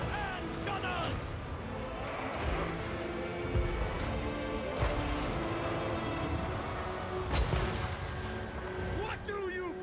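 Artillery gunners fire in a Total War: Warhammer 3 battle, with booming shots and rumbling impacts over a dense, continuous layer of game battle noise and unit voices.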